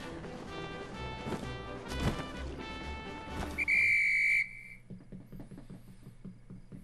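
A bright, sustained whistle from the video game The Legend of Zelda: Breath of the Wild sounds for about a second over game music and effects, then fades into rhythmic clip-clop hoof steps.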